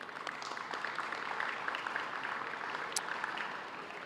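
A small group applauds for a board during a Hoboken press briefing, a fairly quiet, steady patter of clapping lasting a few seconds.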